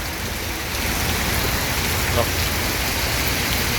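Heavy rain pours down at a bus ticket office in Palembang, a dense, steady roar of water across the whole stretch, close and loud, with a brief voice exclaiming over it.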